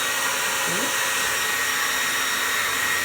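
A hair dryer blowing steadily on hair, paired with a flat brush, giving a loud, constant, close whoosh with a faint shift partway through and no talking.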